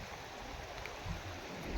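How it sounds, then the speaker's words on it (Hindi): Steady broadband rush of water pouring at Sikidiri waterfall, a continuous wash heard from close by with no voices over it. "फॉल है देखिए"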